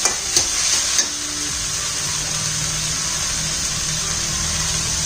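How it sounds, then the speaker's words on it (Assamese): Banana flower fries gently in a pan over low heat, producing a soft, continuous sizzle and hiss, with a few light knocks near the start and then an even frying sound to the end. "এনেকৈ চিমত দি অকণ অকণ ভাজি থাকিব লাগিব"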